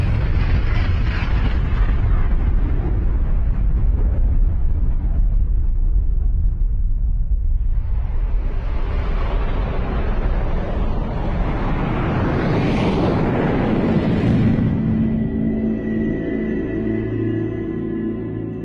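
Atomic bomb explosion, a loud sustained rumbling roar that swells again midway into a deep billowing blast and slowly rolls off.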